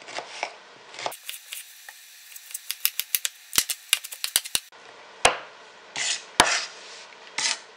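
Knife chopping an onion on a cutting board in a home kitchen while making spicy Italian tomato sauce, a quick run of sharp, close taps in uneven bursts between quieter scraping.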